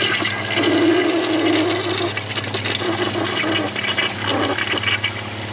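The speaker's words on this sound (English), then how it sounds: "Second flush, let's see if it unclogs itself." A Kohler Wellworth toilet, partly clogged, gives a second loud, close flush: a steady rushing gush of water for several seconds, heard alone.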